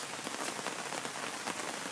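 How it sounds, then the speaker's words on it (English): Steady rain falling in a forest at Red River Gorge, a dense, even patter of drops on leaves and surfaces that holds constant throughout, close and enveloping with no voices. "But I do enjoy a good rain."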